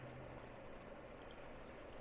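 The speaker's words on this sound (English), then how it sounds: "Raise her up, put her over, let her drain." Hot oil draining off a deep-fried turkey held above the fryer makes a steady, even sizzling patter of dripping oil, faint and continuous with no pauses and no talk.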